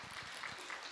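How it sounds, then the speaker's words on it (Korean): Audience applause welcoming a pastor at a Buddhist monk's question-and-answer talk, a short, dense burst of clapping filling the room. "우리 환영영 목사님 박수로 맞으세요"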